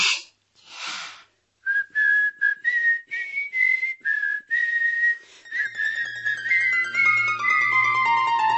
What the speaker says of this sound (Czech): pískáme